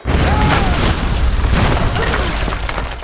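A grenade launcher fires in Tomb Raider (2013), and a loud booming blast fills the whole stretch, dense and sustained, with a rumbling tail that fades slightly toward the end.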